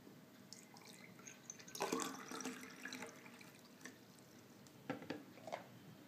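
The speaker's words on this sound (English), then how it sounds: "Now fill the glass with water." Water poured from a tap-like stream into a drinking glass, a steady liquid trickle rising into louder splashing bursts near the middle and again toward the end, close and fairly quiet.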